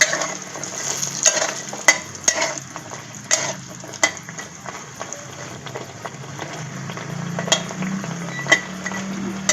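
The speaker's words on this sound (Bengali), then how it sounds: "ডালের বড়িটা একটু নাড়াচাড়া করে ভেজে একটু লাল লাল হলে ডালের বড়িটা নামিয়ে নেব।" Lentil badi frying in oil and being stirred, with crisp spatula clacks and scrapes striking at an irregular rhythm over a low sizzle, close by and without speech.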